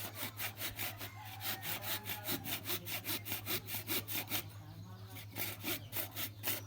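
A hand saw cuts through wood in a steady back-and-forth rhythm of quick rasping strokes, close and continuous over a constant low hum, with a short pause midway before the strokes resume.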